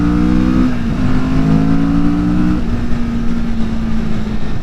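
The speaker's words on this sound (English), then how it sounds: "this bike does sound good under hard acceleration" A 2020 Kawasaki Vulcan S cruiser motorcycle under hard acceleration: a steady loud engine drone whose pitch climbs then drops at a gear change, with wind rush throughout and no talk.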